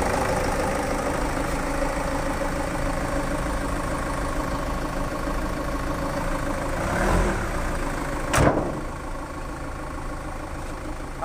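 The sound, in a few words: Land Rover Freelander 2 engine idling after major service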